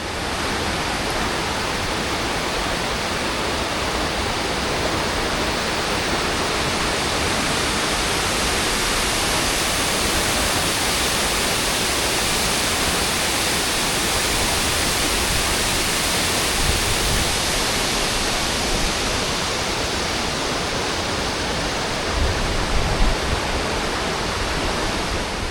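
Wailing Widow Falls, a waterfall in the Scottish Highlands, roars as a dense, steady rush of falling water close by, unbroken and loud throughout with no voices.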